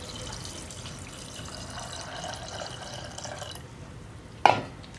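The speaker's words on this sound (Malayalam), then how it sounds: "ഗ്രീൻ പീസിലേക്ക് നമുക്ക് കുക്കാവാൻ ആവശ്യമായിട്ടുള്ള വെള്ളം ചേർക്കാം" Water poured into green peas in a pot for cooking, a continuous close splashing trickle that ends with a short, sharper splash.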